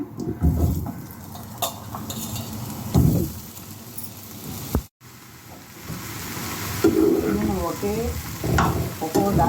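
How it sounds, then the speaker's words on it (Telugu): Chopped mushrooms fry in a little oil in a pan, close sizzling with bursts of stirring and spatula scrapes, briefly cut off midway before resuming. "ఇప్పుడు కోసి పెట్టుకున్న మష్రూమ్స్ వేపుతున్నాను"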